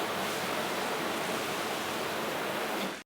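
An Eley garden hose sprayer nozzle set to its shower pattern sprays water in a loud, dense, steady hiss that runs unbroken before cutting off abruptly at the end.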